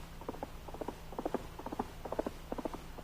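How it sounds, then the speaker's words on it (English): Horse hooves clip-clop in a steady, galloping rhythm as a radio drama sound effect for a Pony Express rider's horse, moderately loud and alone, in repeated groups of quick knocks. "we see a foam-flecked horse pull to a stop at the end of his run"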